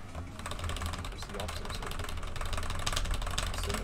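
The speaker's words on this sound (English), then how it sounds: "Riding around in a rover." A rover engine runs while driving in a video game, making a continuous, fairly quiet, rough mechanical drone with a steady knocking texture throughout.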